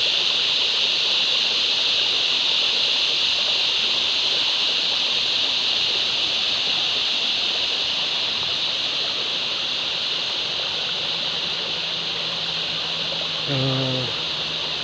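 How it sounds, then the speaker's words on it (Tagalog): Creek flowing through woods thick with trees, a steady broad rushing wash of water that stays even and close throughout, with a brief low motor-like hum near the end and no talking. "Ito na pala yung sapa dito idol."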